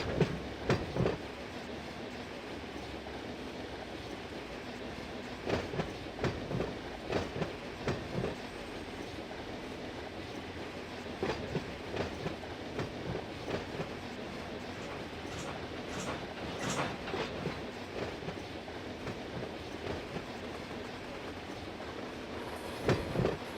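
Freight cars of a BNSF local rolling slowly at about four miles an hour in the Run 8 train simulator, a steady low rumble with intermittent clanks and wheel clicks at irregular intervals, no talking.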